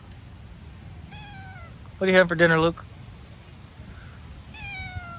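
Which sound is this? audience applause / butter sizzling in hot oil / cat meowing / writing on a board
cat meowing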